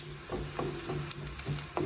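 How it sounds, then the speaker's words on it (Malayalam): Egg stirred into beef kothu porotta frying in a pan, with a steady low sizzle and a series of soft, rhythmic scrapes and taps from the stirring utensil, close and quiet. "അതുപോലെ ഇങ്ങനെ ഒന്ന് ഇളക്കി കൊടുക്കാം."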